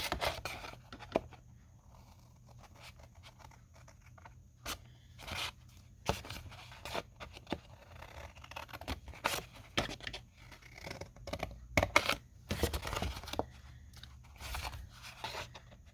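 Scissors snip out small paper squares for junk journal embellishments, making close, quiet crunching cuts in irregular bursts with faint rustling between them and no talking.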